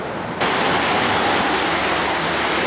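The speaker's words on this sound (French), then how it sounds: "on entend le cours d'eau" A mountain river torrent rushing, a dense, steady broadband roar that swells suddenly after a brief quieter moment and then stays loud and close without pause.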